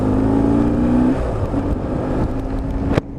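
BMW R1150R boxer-engine motorcycle revving and accelerating, a steady loud engine drone with a rising pitch that drops back, ending in a sharp knock near the close.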